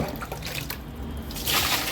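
Water pours into a washing machine drum, a steady close splashing rush that swells louder near the end, with no voices.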